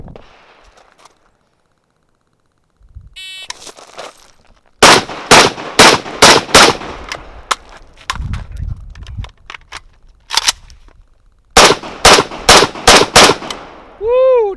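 Rifle or carbine gunfire at a 20-yard range: two strings of five sharp, loud shots in quick rhythm, separated by a reload with mechanical clatter and rustling, ending in a beep.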